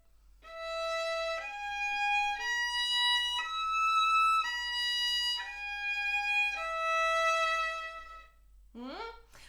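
Violin arpeggio in fourth position, a clean sequence of about eight sustained bowed notes stepping up and then back down, played close and alone, ending with a quick rising slide.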